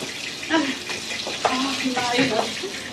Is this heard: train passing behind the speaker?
no